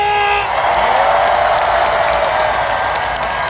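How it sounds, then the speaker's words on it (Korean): A concert crowd at an outdoor festival performance applauds and cheers, loud dense clapping mixed with shouts, and a fading musical tone at the very start. "다시 한번 다 같이 박수와 함성!"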